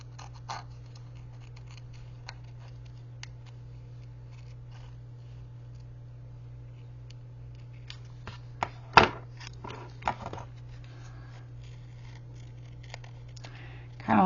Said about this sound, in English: You're going to cut around your pieces. Just kind of fussy cut around the pieces.